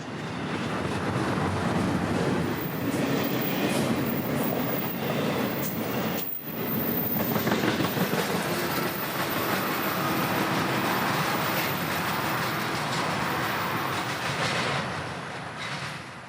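Florida East Coast Railway train 202 rumbles past the north end signals near Bunnell, a loud, sustained roar of rolling wagons with rhythmic clatter, heard alone throughout.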